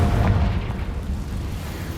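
A low, rumbling blast from the Confringo blasting spell, a dense booming roar that holds steady for two seconds with no voices over it.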